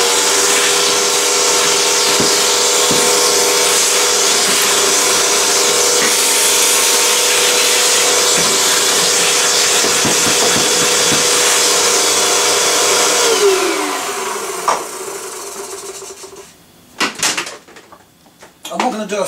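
A vacuum cleaner sucks cobwebs out of a vintage Philips SON street light, giving a loud continuous whining roar for about thirteen seconds. It then winds down with a falling whine, followed by bumps and rattles of handling.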